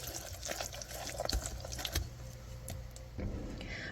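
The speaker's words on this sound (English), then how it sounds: "Now I'm going to mix this together until it's combined." Wet muffin batter of brown sugar and vanilla, for pumpkin muffins, being stirred in a bowl, a close, continuous scraping and sloshing with a few sharper knocks against the bowl and no voices.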